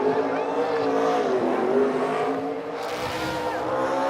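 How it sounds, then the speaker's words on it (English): NASCAR Xfinity Series race car doing a burnout donut at Phoenix Raceway, a loud continuous engine scream with wavering revs and tire squeal, rising and falling as the car spins, with crowd or commentary noise beneath. "He's got the classic old school donut somewhere in there."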